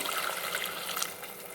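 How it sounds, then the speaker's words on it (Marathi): Steady, soft trickle of water pouring into a pan of curry masala, a continuous splashy hiss running without pause and no voices over it. "आता यात मी पाणी घालून घेते"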